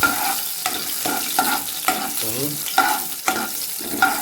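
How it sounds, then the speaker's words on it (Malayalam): Garlic frying in a pan for sambar is stirred with a spoon, giving rhythmic scraping strokes about every half second over a steady sizzle, close and clear, with no talking. "ഇത് നന്നായിട്ടൊന്ന് കിണ്ടി കൊടുക്കുക"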